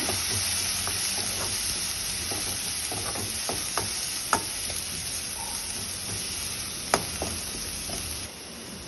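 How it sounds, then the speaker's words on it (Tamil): A masala of onion, tomato, red chili powder and coriander powder is stirred in a sizzling pan for ghee podi chicken, giving a steady frying hiss broken by scattered scraping clicks of the spoon, close up with no talking. "வெங்காயம் தக்காளி வரமிளகாய் தூள் கொத்தமல்லி தூள் எல்லாம் போட்டு நல்லா மிக்ஸ் பண்ணிக்கணும்"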